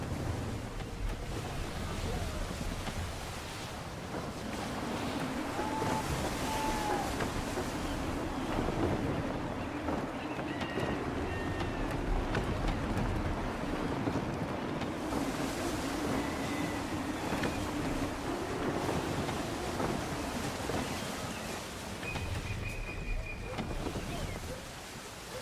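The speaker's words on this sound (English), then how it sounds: "Gusty winds can be difficult to manage." Gusty wind and rushing sea water while sailing a ship at night in Assassin's Creed 3, a steady roaring wash with swelling gusts throughout, with faint cries and talk underneath.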